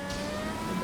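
PR4 open-wheel race car in GTA Online, its engine holding a high, steady, tonal whine for a brief moment with no voices.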